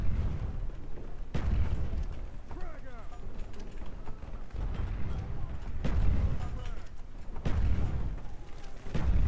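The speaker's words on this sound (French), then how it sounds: "Le but est de lancer le plus de grenades possible." Repeated grenade blasts in a Call of Duty Black Ops match, several sharp booming explosions spaced every second or two, loud and close, with someone talking over them.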